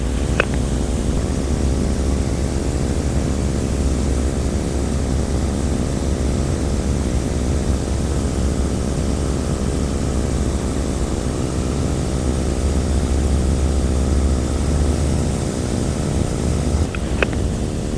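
A microlight aircraft engine drones steadily in flight, a loud continuous low hum with constant propeller buzz throughout, close to the cockpit.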